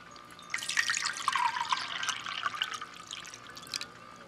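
About 1.5 cups of water is poured from a measuring cup into an Aldi Kitchen Living electric gravy warmer, giving a close, bubbling splash and trickle that runs for several seconds, then ends in a few drips.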